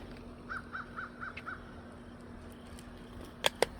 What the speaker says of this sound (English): it's just a bird. See, it's going up in that tree.